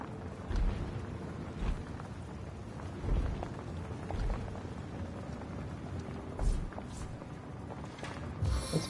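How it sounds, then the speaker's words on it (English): Rain spell cast in Divinity: Original Sin, a soft steady patter of falling game rain with intermittent heavier splashy thumps, moderately quiet throughout. "Let's cast rain here again now."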